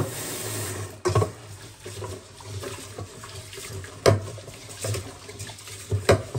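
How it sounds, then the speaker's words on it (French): White rice being rubbed and scrubbed by hand in a basin of water, producing irregular sloshing swishes and splashes with a few louder bursts, close up and without speech. "Le riz, il faut bien frotter."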